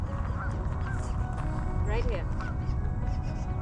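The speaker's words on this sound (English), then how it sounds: "a banded goose." A banded goose with a neck band honks several times among other waterfowl, the calls short and moderately close over a steady outdoor background, with people talking nearby.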